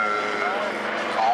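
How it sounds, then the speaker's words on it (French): A Nord-Atlas twin-engine military transport plane, weighing about 13 tonnes empty and near 22 tonnes loaded, passes overhead with a steady, full propeller drone and engine hum that holds at an even loudness for the whole short stretch. "Ce Nord-Atlas, celui qui est dans le ciel au-dessus de nous"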